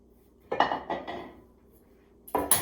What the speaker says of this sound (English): I'm going to grab a bowl